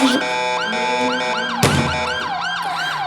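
An ambulance siren in a video game wails, rising and falling repeatedly, loud and close, with a brief louder burst partway through; no one speaks.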